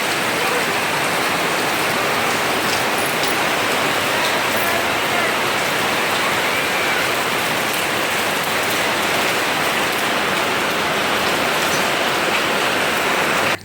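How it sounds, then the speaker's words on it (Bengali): Heavy rain pours steadily and loudly in a village setting, a dense unbroken roar of drops hitting surfaces that lasts the whole time. "আর এদিকে দেখো ঝমঝমিয়ে বৃষ্টি শুরু হয়ে গেছে।"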